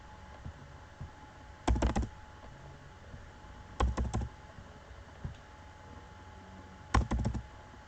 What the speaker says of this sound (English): on your keyboard press the backspace button multiple times